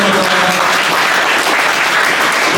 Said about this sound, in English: Please give a big round of applause to Sepufazo Matala.